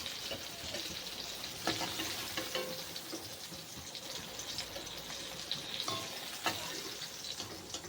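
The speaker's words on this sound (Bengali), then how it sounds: "দেখুন এরকম লাল লাল করে ভেজে নিতে হবে ফুলকপিগুলো" Steady crackling sizzle of cauliflower frying in hot oil, with occasional sharper pops and stirring clatter, close and fairly quiet throughout.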